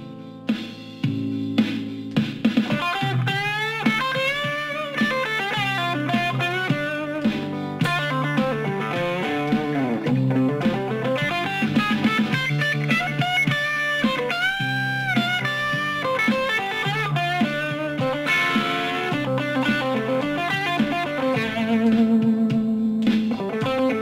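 Distorted electric guitar plays a continuous blues-rock melodic line with bent notes and sustained phrases, loud and saturated over a steady backing.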